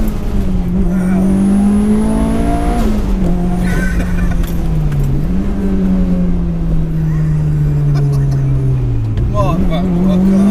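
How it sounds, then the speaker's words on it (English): A 630 bhp Mitsubishi Evolution VI rally car accelerates hard from inside the cabin, its engine droning and climbing through gears with loud, close revs, brief dips at shifts, and voices talking over it. "Proper rally car."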